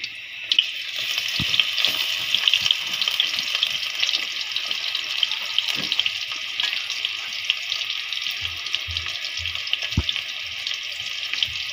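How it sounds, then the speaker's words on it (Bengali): Garlic frying in hot oil makes a loud, constant high sizzle that holds steady throughout, close up, with occasional soft knocks and pops underneath. "আমি এখন দিয়ে দিচ্ছি এখানে রসুন"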